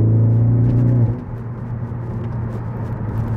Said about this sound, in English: Definitely hear the intake when you're driving, especially at high RPMs.